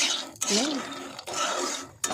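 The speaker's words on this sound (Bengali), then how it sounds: "নুন দিয়ে আগে একটু রোদে শুকিয়েছি, আর এখনই ভাজছি" Salted, sun-dried raw peanuts tossed in hot oil in a pan give close, clattering scrapes and rustles of utensil against metal, with a brief voice breaking in early on.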